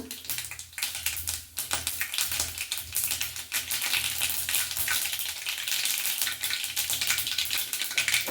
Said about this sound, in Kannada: ಇವಾಗ ಸ್ವಲ್ಪ ಸಾಸಿವೆ ಹಾಕ್ಕೊಳ್ತಾ ಇದ್ದೀನಿ